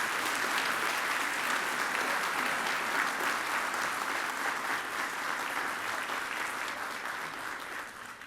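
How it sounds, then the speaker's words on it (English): A room full of people applauds steadily, a dense sustained clapping that gradually fades toward the end. "please give them a round of applause"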